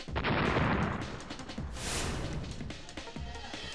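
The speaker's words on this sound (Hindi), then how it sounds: "चलती सड़क पर सेना ने बम से किए कई धमाके।" Cluster bombs explode along a busy street in Kharkiv, Ukraine. Loud, rumbling blasts pile up in rapid succession, and a second booming burst rolls in partway through.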